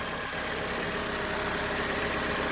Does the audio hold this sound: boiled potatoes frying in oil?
no